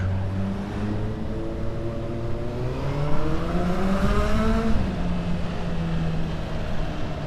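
A Honda Hornet motorcycle fitted with a LeoVince sport exhaust revs steadily, its engine note climbing in pitch, swelling louder around the middle, then easing back, close and continuous with no voices.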